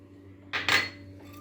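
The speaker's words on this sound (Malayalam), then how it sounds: "ഒരു മിക്സിയുടെ ജാറിലേക്ക് നമുക്ക് ഈ ഉള്ളി ഇട്ട് കൊടുക്കാം" Pieces of onion dropped into a mixer grinder jar, making a brief double clatter on the jar, close and sharp, then quiet.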